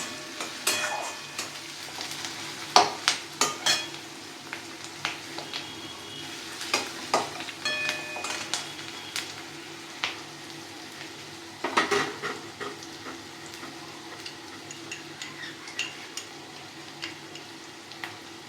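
Chili, soy and tomato sauce mixture hits a pan for garlic fish, sizzling steadily while a utensil scrapes and taps in irregular bursts, close and fairly loud, with no voices.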